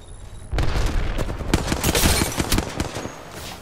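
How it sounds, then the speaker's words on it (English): A sudden loud blast from a grenade in the video game Apex Legends, followed by a rapid run of close gunshots crackling for several seconds, loud and without talk. "Grenade, watch out."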